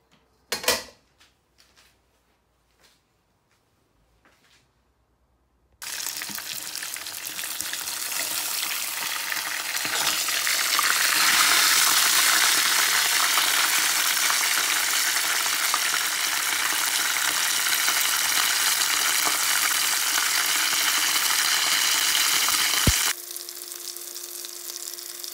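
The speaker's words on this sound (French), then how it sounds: "You need to let the oil heat before you start frying the fish." Tilapia fish fries in a pan of hot oil, a loud, steady sizzle that starts abruptly after a few quiet clicks and knocks, swells, then cuts off sharply near the end.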